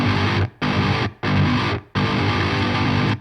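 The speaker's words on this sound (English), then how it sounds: "it sounds without argent compressor, the DI straight to the Neural DSP sounds like this" Distorted electric guitar played DI straight into a Neural DSP amp model with no Argent compressor, four dense loud riff bursts separated by short abrupt stops.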